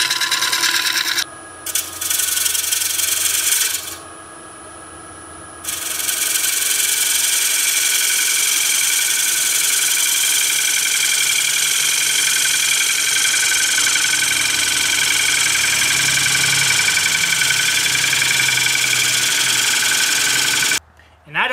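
Lathe hollowing a green-wood bowl, a loud, continuous hiss of the tool cutting the spinning wood, broken by two short pauses and ending in a brief silence before it resumes.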